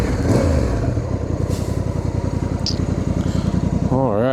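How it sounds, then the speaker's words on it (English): A 2025 Honda Africa Twin DCT motorcycle idles near the exhaust, its engine pulsing in a rapid, even beat, loud and close, with a brief rising whine near the end. "Here, see if we can get closer to the exhaust."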